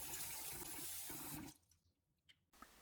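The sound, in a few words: washing rice in water in a bowl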